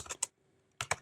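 Quick clusters of key clicks from code being typed on a computer keyboard, two short bursts separated by a silent pause, close and quiet.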